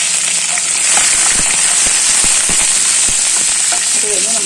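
Green chilli, ginger and garlic sauté in hot coconut oil with curry leaves for a squid masala. A loud, constant sizzle is broken by sharp, scattered crackling pops.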